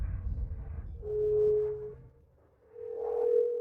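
A phone call rings out with no answer, two long steady ringback tones sounding faintly, separated by a short pause.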